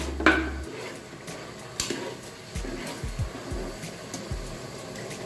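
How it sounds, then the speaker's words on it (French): A spoon stirs a sauce with mustard in a pot, scraping and knocking softly against the metal in an uneven rhythm, close and fairly quiet, with no voices. "Je mélange"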